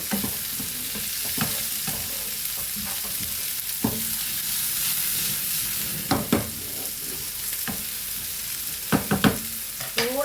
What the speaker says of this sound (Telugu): ఉల్లిపాయలు వేస్తాను. ఉల్లిపాయలు కూడా వేగాలండి.